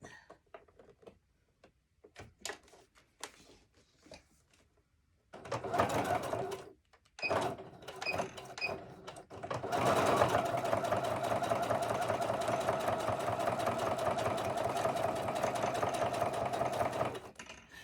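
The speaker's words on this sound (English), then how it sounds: "And have a steady hand with your machine. So you make sure that you're sewing a straight line going down." A sewing machine runs steadily while stitching a straight seam on a fabric notepad, starting after a few quiet seconds with short bursts, then settling into a loud, continuous motor whir with rapid needle ticking.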